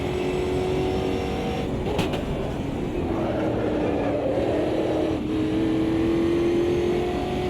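Car engine in a racing video game on a rally-style stage lifting off the throttle, a steady droning note that sags and eases in pitch, loud and continuous, with a couple of brief clicks.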